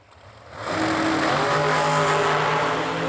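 Dragster engines at a drag race roar up from a low start into a loud, sustained high-power blare that holds steady for several seconds, with no voices over it.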